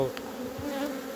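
A small swarm of honeybees buzzes inside a hive, a steady, close droning hum.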